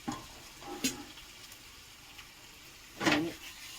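Bacha fish slid into hot oil in a home kitchen for a curry, giving two or three short bursts of sizzling spatter, the loudest near the end, over a quiet background.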